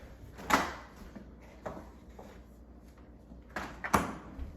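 A refrigerator drawer is opened and shut, making several soft, hollow clunks and slides spaced a second or so apart in a quiet kitchen.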